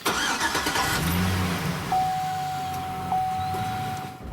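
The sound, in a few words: car engine starting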